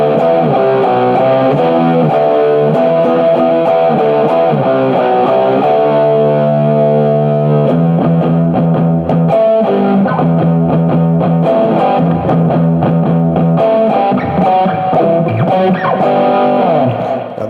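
An electric guitar plays through a NUX Mighty Space desktop amp on a patch, loud and distorted, with sustained chords and riffing lines that run continuously.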